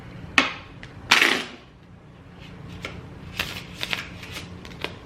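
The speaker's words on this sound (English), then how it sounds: "I can just shuffle right on the desk" Playing cards riffle-shuffled on a desk, two sharp bursts followed by softer taps and shuffling of the deck, close by with no talking.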